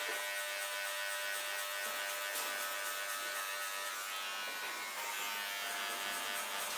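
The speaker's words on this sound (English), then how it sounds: "Make sure you're controlling the clipper." Electric hair clipper running during a skin fade haircut, a bright, dense buzz held close and loud for several seconds without pause or talking.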